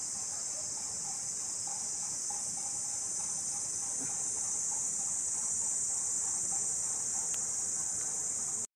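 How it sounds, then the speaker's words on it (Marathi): Crickets chirp in a dense, unbroken high-pitched drone on a clear morning in a village near Rajapur, steady and moderately loud throughout, with no voices. "आणि रातकिड्यांचा आवाज बघ किती."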